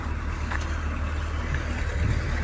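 A YuMZ tractor engine rumbles steadily and loudly at close range as it drives off a farm field, a continuous low drone.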